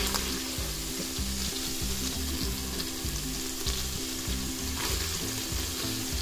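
Onions dropped into melted butter in a soup pot for an autumn soup, a loud, dense, continuous sizzle with a low rhythmic rumbling pulse underneath and no talking.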